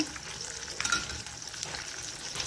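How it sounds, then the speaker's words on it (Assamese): Fish fries in a hot pan with oil, giving a close, steady, crackling sizzle with small pops throughout. "আহক এই মাছখিনি ভাজি উঠাই ল'লোঁ"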